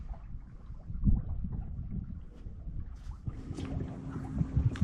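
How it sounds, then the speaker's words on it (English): Flags flap in the wind aboard a sailboat heading into an anchorage under full sail, a soft irregular fluttering over steady wind and water noise, with a faint hum joining partway through. "Flags are flapping, it's nice."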